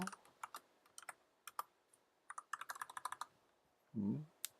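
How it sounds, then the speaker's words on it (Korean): Someone types on a computer keyboard up close in a quiet room, with irregular bursts of key clicks, a short pause and a final quick flurry, followed by a brief low thump near the end. "똑같이 타이핑을 해주시기 바랍니다."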